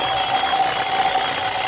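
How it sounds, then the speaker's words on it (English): An alarm clock rings continuously and loudly at close range, a steady electric buzz-like tone that does not let up, with no voices. "Coming awake, I heard the alarm we'd set go off."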